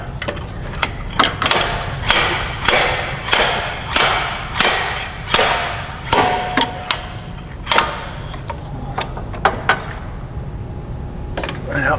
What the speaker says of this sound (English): turns out slide hammer works pretty well for pulling out these stub shafts